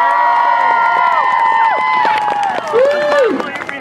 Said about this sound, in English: Give Lonnie a big round of applause!